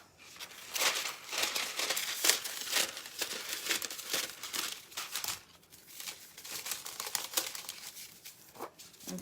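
A craft foil sheet crinkles and rustles while being cut, giving continuous close, crisp crackling with brief louder snips and no speech.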